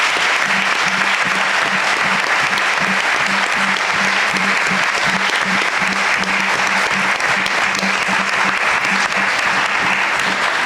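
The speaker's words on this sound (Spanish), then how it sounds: "si se unen conmigo en darle un aplauso a nuestros autores" Audience applause for the authors at the close of an academic lecture, dense continuous clapping from a room full of people, sustained and even for about ten seconds with no speech.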